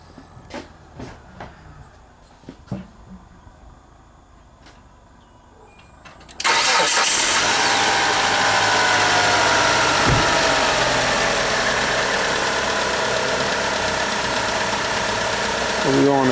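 A Hyundai Sonata engine cranks briefly then catches and settles into a steady, close idle; clicks and handling noises come before the start, with voices faintly present.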